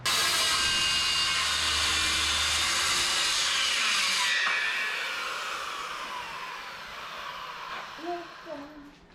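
A saw cuts through a wood sheet for a DIY triple bunk bed, a loud steady rasping buzz that stops partway through, followed by a few faint knocks and handling sounds.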